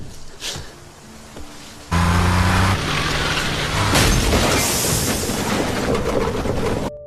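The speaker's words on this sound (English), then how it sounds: "The fatal crash of James Dean." Loud crash from a staged re-creation of James Dean's fatal wreck, a replica of his car driven into a collision: a sudden heavy impact and crunch, then sustained grinding, scraping metal noise lasting several seconds.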